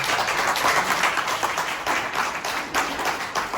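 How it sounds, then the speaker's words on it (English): A room full of people applauding, steady dense clapping that carries on throughout, moderately loud. "give him another round of applause"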